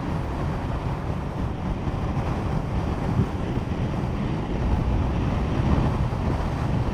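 Steady wind buffets the microphone at Ludlow Castle with a continuous low roar and gusty rumble, loud and close, with no voices.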